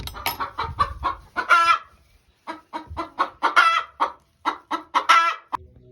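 Chickens cluck in bursts in a winter coop, close and fairly loud, with rhythmic clucking phrases separated by brief pauses and a possible crow-like call among them.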